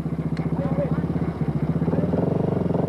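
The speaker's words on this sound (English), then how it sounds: "arrives on the Yamaha Raptor, bike number L1" A Yamaha Raptor quad arrives during a desert race, its engine a pulsing, mid-pitched drone that throbs steadily and rises toward the end, while an announcer talks over it.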